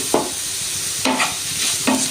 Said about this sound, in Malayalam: ഇനി ഇതെല്ലാം കൂടി ഒന്ന് വഴറ്റാം.